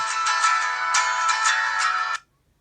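A Nokia 5000d-2 mobile phone ringtone plays a bright, synthetic melody of repeated pulsing notes, loud and close, then stops abruptly after about two seconds.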